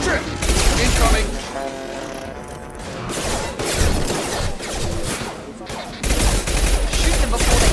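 Rapid gunfire and blasts from a squad firefight in the Mass Effect 2 video game, loud bursts of shots and crashes repeating throughout, with a voice speaking over the battle.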